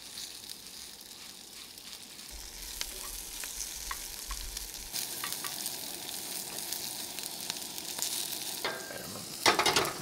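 Green beans sizzle steadily in Land O'Lakes garlic and herb butter spread at a campsite, with occasional stirring scrapes and a louder clatter of the utensil near the end, no talk.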